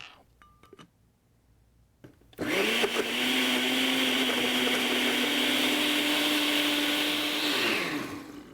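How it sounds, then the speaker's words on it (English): A countertop blender whirs loudly and steadily for about six seconds, puréeing cilantro, avocado, garlic cloves, olive oil, mayo and lime juice into a dressing, starting abruptly after a few quiet clicks and holding a constant motor pitch until it winds down. "we toss some cilantro, avocado, a couple cloves of garlic into the blender, along with some olive oil, mayo, fresh lime juice"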